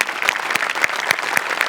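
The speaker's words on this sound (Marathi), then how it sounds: "जोरदार टाळ्या." An audience breaks into loud applause after a stage performance on a Marathi comedy show: a dense, close burst of clapping with a rhythmic pulse running through it, and no talk.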